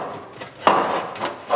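Hammer blows land on raised stud spots in the steel body panel of a 1972 Triumph GT6, backed by a dolly near the B-post: a few dull, muted knocks, one stronger than the others, close by.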